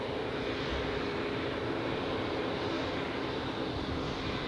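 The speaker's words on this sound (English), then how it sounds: "787 pushing back, but I do not like the way how they are pushing it back" A Boeing 787 pushing back at Zurich Airport during a busy rush hour, heard as a loud, steady broadband roar of jet engines at idle that fills the whole stretch without letup.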